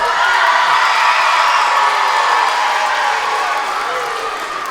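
A dense crowd of children cheers and whoops for Oliver Goldsmiths school at an evening show, loud from the start with scattered claps, tapering gradually over several seconds.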